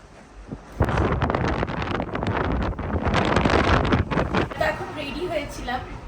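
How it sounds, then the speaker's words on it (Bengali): Strong wind blowing outside on a hill road near Deomali in Koraput, Odisha, roaring and gusting loudly against the microphone through an opened window, with someone talking over it. "তোমাদের জানলাটা খুলে দেখায়, এত হাওয়া দিচ্ছে না"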